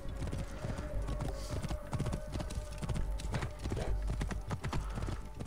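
A horse gallops in the game Assassin's Creed Origins, its hooves pounding in a rapid steady clip-clop rhythm, close and continuous, with a voice talking over it.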